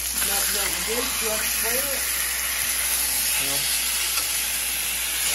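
Rib eye steaks sizzling in butter with mustard as they are flipped in a hot pan, a steady loud hiss running throughout while someone talks over it.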